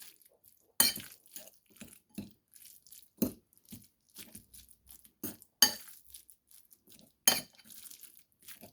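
Food being mixed in a cooking pot with a utensil while preparing hairy gourd (winter melon): sharp, scattered clinks and scrapes of metal against the pot, close and intermittent, with quiet gaps between.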